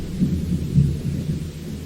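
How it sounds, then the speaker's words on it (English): Soft, distant rumbling thunder from a rainy scene in a Doki Doki Literature Club mod, a low steady roll with gentle swells, faint and subtle under the ambience, with no talking. "I like how the thunder is very subtle"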